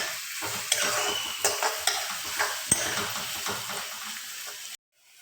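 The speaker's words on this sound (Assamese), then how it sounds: "এয়া আমাৰ বায়ে পিঁয়াজখিনি একদম ৰঙচুৱাকৈ ভাজি ল'লে" Onions for duck meat curry fry in a pan, sizzling steadily while a utensil stirs with repeated scraping strokes and a few clanks, close and loud, ending abruptly.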